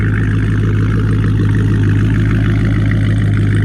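A rebuilt 392 Dodge Charger police car engine idles steadily nearby, a loud, even low rumble holding for the whole stretch with no speech over it.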